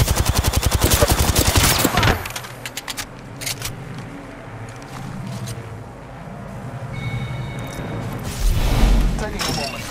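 Automatic weapon fire in the video game Apex Legends, a loud rapid burst for about two seconds, then scattered single shots and a quieter stretch before another heavy burst near the end, with game voice lines over it.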